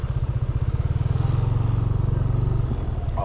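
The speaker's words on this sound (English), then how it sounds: "I'll put the motorbike in parking zone." A motorbike engine idles close by with a steady low throbbing pulse, staying loud and even for a few seconds while it is parked, then settling near the end.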